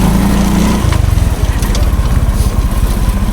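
A motorcycle fitted with a louder aftermarket exhaust rumbles close by on a rough rural road near a farm. Its steady drone shifts pitch abruptly about a second in, then settles into a choppier, pulsing idle-like beat.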